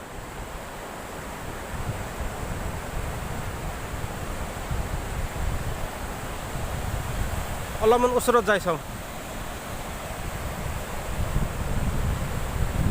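Ocean surf rolls steadily onto a beach in Goa, a constant broad wash of waves mixed with wind buffeting the microphone, while a person speaks briefly near the end.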